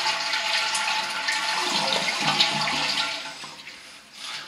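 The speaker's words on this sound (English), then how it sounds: "Then we're going to flush the toilet, and we're going to hold the handle down while all the water drains out." A toilet flushes with the handle held down, a loud rushing gush of draining water that carries on steadily before tapering off near the end.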